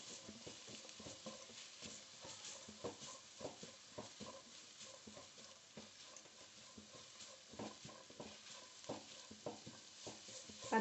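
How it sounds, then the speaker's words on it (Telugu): Grated carrot frying for gajar halwa, a soft steady sizzle with repeated scraping stirs of a spatula in the pan, fairly quiet and close with no talking. "ఇలా వేయించుకుందాం."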